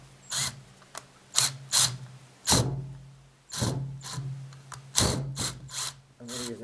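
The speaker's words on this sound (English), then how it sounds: "I'm going to use another clamp." A clamp is cranked tight on a wooden floating shelf, giving close, uneven ratcheting clicks and creaks in short bursts with brief pauses between them.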